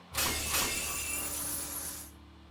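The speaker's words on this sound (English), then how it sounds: "The chains are broken." Chains shatter in a Fate/Stay Night game scene, a sudden bright crash of breaking glassy fragments with a second burst, then a fading shimmer over a low hum.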